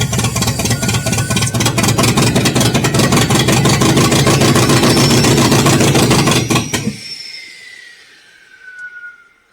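An Allis Chalmers engine on a LeRoi 125 CFM air compressor, starved by a fuel pump that can't keep the carburetor bowl filled, runs loud and close with a steady throbbing chug, then abruptly dies and fades into quiet.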